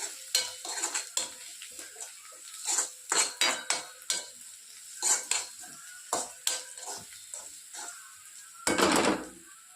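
Upma mixed with cumin in a pan: repeated, close metal spatula scrapes and taps against the pan in an uneven rhythm over a light sizzle, with a louder burst of scraping near the end.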